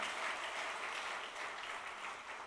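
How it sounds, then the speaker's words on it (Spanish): Steady applause from a church congregation during a sermon, a dense, even patter of many hands held at a constant level with no voices on top. "¿Usted sería capaz de darle un aplauso a esa frase?"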